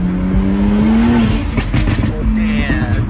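A BMW 335i with the N54 engine pulls hard under acceleration, its loud engine drone rising in pitch, easing briefly, then climbing again, with steady road and wind roar throughout.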